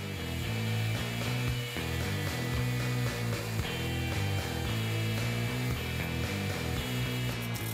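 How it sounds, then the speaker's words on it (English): Steady buzzing whir of a pneumatic sander grinding against wood, loud and continuous with slight rhythmic wavering, no voices. "Then I did some rough initial sanding with the pneumatic sander"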